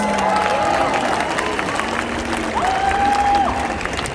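A crowd at an outdoor freedom rally in Perth applauds and cheers steadily, a broad wash of clapping with whistles cutting through and voices mixed in.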